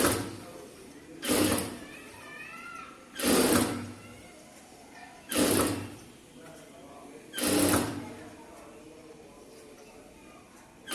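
A sewing machine stitches a blouse in four short, evenly spaced bursts of rapid mechanical clatter, with a voice talking quietly in the pauses between them.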